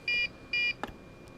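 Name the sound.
quadcopter transmitter beeping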